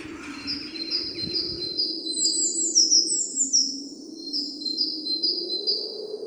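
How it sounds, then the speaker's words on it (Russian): Nightingales sing outdoors in bright, repeated whistling phrases over a steady low hum, with no voices. "Мы сюда приехали, а здесь соловьи поют."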